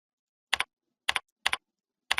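A computer keyboard is typed on into a search box: four short, crisp, close double clicks spaced unevenly apart, each separated by silence.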